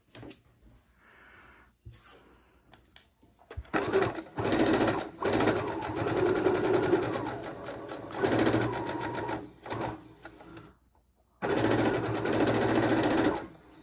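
A sewing machine stitches a scrappy fabric heart pillow in several loud whirring runs of varying length, broken by pauses and short bursts where the needle stops to pivot, heard up close.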